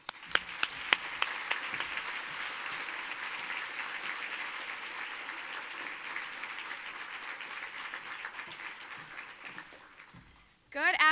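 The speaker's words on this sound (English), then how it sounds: "give a raucous round of applause to our keynote speaker" A conference audience claps for a keynote speaker at the 2019 Sewing Sisters Dashaway event. A few early claps swell into steady, moderately distant applause that stops abruptly before a voice begins.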